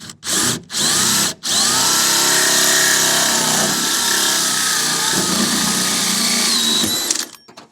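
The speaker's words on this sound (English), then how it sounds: "So now I'm going to drill the big hole." A power drill bores a large hole through a campervan wall: three short revving bursts, then one loud, steady grinding run of about six seconds that cuts off at the end.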